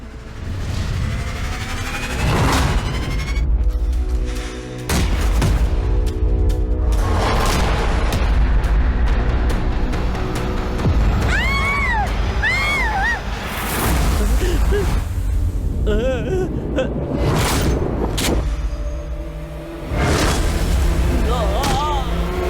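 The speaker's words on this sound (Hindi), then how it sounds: "ये क्या फिर से गोलियां चली?" Gunshots and booms ring out repeatedly amid a dramatic soundtrack in a Hindi-dubbed Chinese action movie, with loud bursts, whooshes and brief voices mixed through a tense, busy scene.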